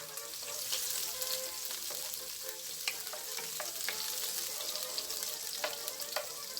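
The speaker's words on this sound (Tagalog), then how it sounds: "idagdag at isutay natin ang ating garlic. Dagdag na rin natin ang ating sibuyas." Garlic and onion sauté in a pan for Ilonggo-style pinakbet, a steady bright sizzle with occasional light scraping clicks of stirring, close and moderately quiet, without voices.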